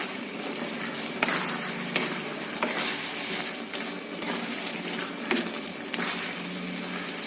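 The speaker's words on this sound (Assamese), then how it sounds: "এতিয়া গোটেইখিনি অলপ সময়ৰ কাৰণে ভাজি ল'ম।" Soft, steady sizzling of colocasia stems frying in a pan with occasional clicks and scrapes of stirring, moderately close and continuous, with no voices.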